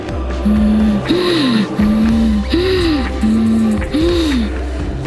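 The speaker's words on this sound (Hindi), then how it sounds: "अचानक फिर से सांस लेने की आवाज पवन के कानों में आई" Slow, eerie breathing sounds in a steady rhythm, each breath a drawn-out tonal rasp, repeated about six times over a low droning background.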